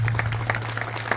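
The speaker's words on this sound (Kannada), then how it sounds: "ಅವರಿಗೆ ಇನ್ನೊಂದು ಚಪ್ಪಾಳೆ" A short burst of audience applause at a film team event, with dense overlapping claps from a crowd heard at moderate level over a steady low hum.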